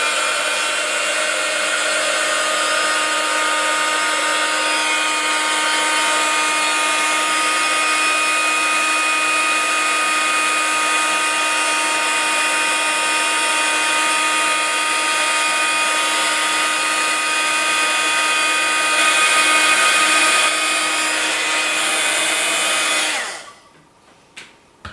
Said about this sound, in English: heat gun, you should heat it up a little bit first before you point it at the image, and move the heat around